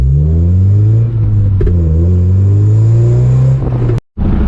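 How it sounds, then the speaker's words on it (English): A car engine revs hard with a loud, sustained roar that rises and falls, close and alone, before cutting off abruptly near the end. "Now I'm really gonna squeal the tires"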